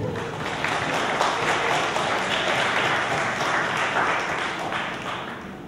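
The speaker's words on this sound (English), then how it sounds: "a big round of applause" An audience at an artist-run arts summit breaks into sustained applause, a dense, steady wash of clapping that fills the room evenly for several seconds before beginning to taper slightly.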